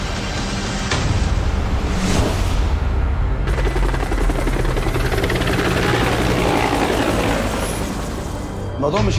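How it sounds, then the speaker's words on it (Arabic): A helicopter flies low overhead at a military camp, a loud, dense roar that fills the whole clip alongside sharp bangs like gunfire and excited voices. "وترى الهليكوبتر داخل علينا اهي فوق"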